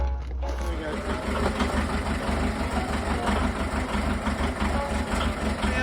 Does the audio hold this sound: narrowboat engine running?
yes